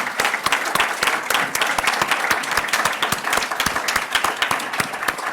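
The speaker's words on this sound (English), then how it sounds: "Please an applause for all the Wayamos." Room full of people at a closing session on transitional justice applauding the Wayamo team, a steady dense wash of clapping with sharp individual claps throughout, loud and close, no talking.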